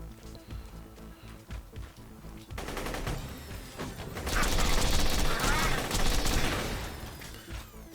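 Rapid automatic gunfire from the Shredder gun in Borderlands, a dense stream of shots that swells louder partway through and stays sustained to the end, with more scattered game effects at the start.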